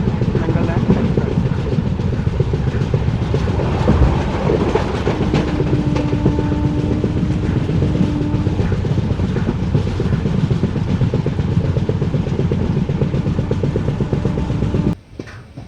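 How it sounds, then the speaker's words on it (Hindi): The 14505 Nangal Dam Express train running at speed: a steady, loud roar of wheels and carriages with rhythmic rail clatter, a faint tonal hum in the middle, and an abrupt cutoff at the very end. "अपनी गति पकड़ते हुए अपने गंतव्य की ओर बढ़ते हुए 14:05 नंगल डैम एक्सप्रेस"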